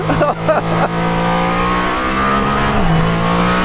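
Mercedes-AMG ONE hypercar in street mode on a circuit on cold tyres, a loud, close, high-pitched engine drone holding steady as the car accelerates, with brief irregular bursts at the start.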